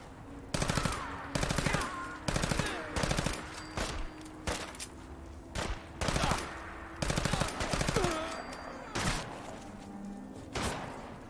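Automatic gunfire in the Fallout 4 video game, fired from an enemy atop a tower: repeated rapid bursts of shots, about a dozen short volleys spaced through the stretch, loud and close.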